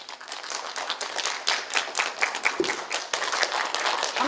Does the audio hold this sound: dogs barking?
no